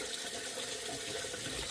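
Rice being washed in a bowl of water under a running tap, a soft continuous splashing and trickling, faint and steady with no talking.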